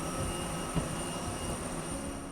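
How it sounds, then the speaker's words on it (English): A Boeing 737 taxis in at an airport gate, giving off a steady, loud, droning engine whine with high tonal hum that continues evenly without breaks. "At the port bay, there's a 737 pulling in behind me, so really noisy."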